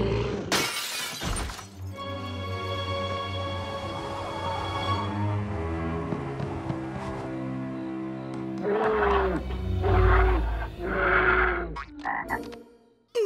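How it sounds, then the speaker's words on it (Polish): A cartoon grizzly bear roars in an animated Looney Tunes Halloween episode, a loud, growling, strongly tonal bellow that comes in two long bursts with a gap between them. "zamienić jego budzik we wściekłego niedźwiedzia Grizzly"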